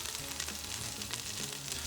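Smoked sausage browns in an Instant Pot with a steady, fairly loud sizzle and crackle of frying fat that continues without a break.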